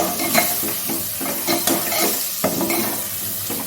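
Spice masala for ghugni is stirred and fried in a pan, a close steady sizzle broken by repeated rhythmic scraping strokes of a spoon against the metal, with no talking.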